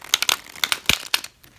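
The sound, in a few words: shuffling a gilt-edged tarot card deck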